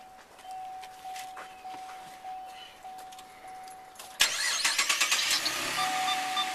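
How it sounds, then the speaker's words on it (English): A chime dings steadily, keys jingle, then a 2010 Chevrolet Camaro V6 engine cranks and catches with a sudden roar, settling into a loud running rumble. "Let's start her up"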